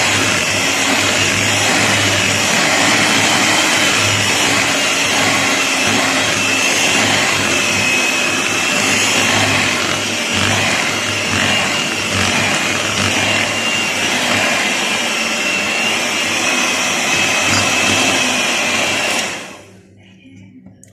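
An electric mixer whirs loudly and continuously as it beats eggs with a splash of vanilla for an eclair batter, then cuts off abruptly near the end.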